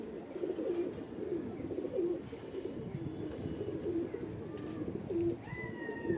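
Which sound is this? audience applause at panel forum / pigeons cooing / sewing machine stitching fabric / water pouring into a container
pigeons cooing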